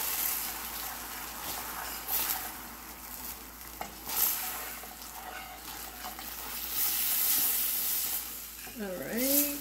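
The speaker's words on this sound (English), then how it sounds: "And I'm gonna stir this." Hot honey sauce for chicken wings bubbling and sizzling in a pan while being stirred, a moderate steady hiss with soft scraping strokes and a faint clink near the end.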